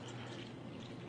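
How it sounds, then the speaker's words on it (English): Water is poured onto a tea bag, a soft continuous splashing and trickling of liquid, close and fairly quiet, with no voices. "Watch what happens when I go to pour again."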